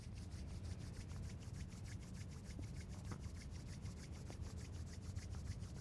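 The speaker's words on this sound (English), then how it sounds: "Then rub your hands together again." Hands rub together during a gentle hatha yoga session, a soft, quick, rhythmic swishing that continues evenly at low volume with no talking.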